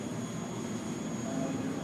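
An F-18 Hornet jet takes off from a runway, producing a steady, distant broadband jet roar with a faint high whine held at an even level throughout.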